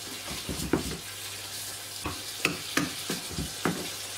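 Spaghetti bolognese sauce cooking in a pan gives a steady soft sizzle and bubble, broken by a few scraping stirs of a spoon, close and moderately quiet.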